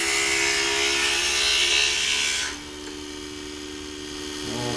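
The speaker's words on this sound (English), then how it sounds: "And then we'll grind this edge away." A grinder is ground against the edge of a glued piece with a loud, harsh, high whine. Partway through, the pitch and load drop to a steadier, quieter hum. No talk is heard over it.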